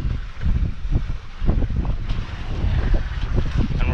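Sailboat under way off Ibiza with a patched sail, doing about 4.6 knots: strong wind rushing across the microphone over the wash and slap of water against the hull, loud and continuous.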